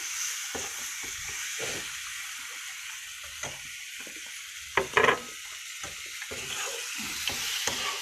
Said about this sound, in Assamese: মাংসখিনি অলপ দেৰি ভাজি লওঁ।